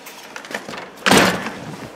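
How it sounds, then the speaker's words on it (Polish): On a windy day, a door near a waiting bus is pulled shut. Light rustling and handling noises come first, then one sharp, close slide-and-thump as it closes, with a short wash of noise after. "Zamknę drzwi, bo wieje."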